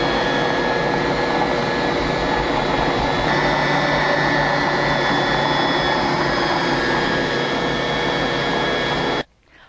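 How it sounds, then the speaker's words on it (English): Electric mixer creaming butter and sugar for Greek biscotti, a loud steady motor whir that runs continuously and alone, then cuts off abruptly near the end. "Now we're going to add the sugar. A little bit at a time. Start the creaming."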